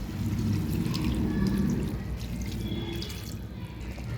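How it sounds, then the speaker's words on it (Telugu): Water is poured into a cooking pot of fish and okra tamarind curry, giving a steady, close splashing gush that eases off after a couple of seconds. "కొంచెం నీళ్ళు పోసుకున్నాం."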